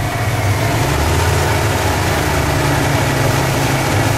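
An airboat engine idles at low throttle set by a foot pedal, a steady, loud, close rumble with a low droning hum that holds constant throughout, with no voices over it.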